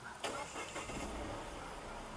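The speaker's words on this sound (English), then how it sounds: "I'm going to quickly start the engine." A Citroen C3 Aircross engine starts with a brief starter crank followed by the engine catching and settling into a steady mid-pitched idle, fairly close and moderately loud.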